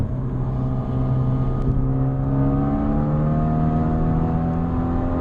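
A Hyundai Veloster with FBO and methanol injection accelerating at full throttle, a loud sustained engine drone heard from inside, its pitch climbing steadily without a break.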